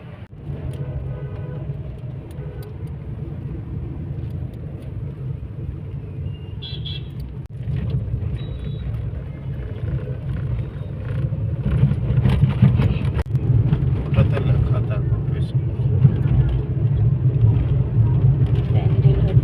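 Traffic is jammed at a railway level crossing while a train passes. Car engines idle and rumble in a steady, close low drone that grows heavier toward the end, with faint horn toots and people talking now and then.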